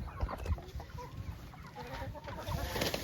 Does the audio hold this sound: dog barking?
no